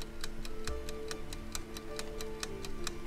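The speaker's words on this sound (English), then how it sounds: "You ever notice how there's white noise and this ticking noise?" Steady, evenly spaced ticking in a video game, quick sharp clicks repeating over a soft bed of white-noise hiss, with no voices.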